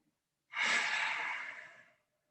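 A single slow, audible breath drawn in and released during a calm yoga session, close and clear, lasting about a second and a half and fading gently to silence.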